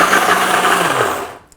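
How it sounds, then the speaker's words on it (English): Blender on medium speed whirring through cottage cheese pancake batter with oat flour, a loud steady motor drone that spins down and stops near the end. "we'll just blend this on medium until well combined"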